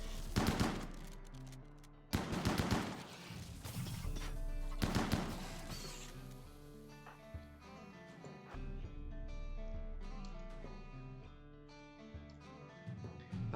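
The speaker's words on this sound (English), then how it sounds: "Chain shotguns are the best." Chain shotgun gunfire in RimWorld: a few loud, sharp bursts early on, then quieter game sounds and music tones over the rest.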